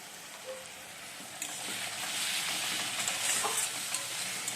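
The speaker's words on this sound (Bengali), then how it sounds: "তো কষিয়ে নিচ্ছি, আর গরম মশলাও দিয়েছিলাম অল্প একটু।" Spiced food, with a little garam masala added, being sautéed and stirred in a pan at home, a steady broadband sizzle that swells after the first second with faint scraping strokes, fairly quiet and without speech.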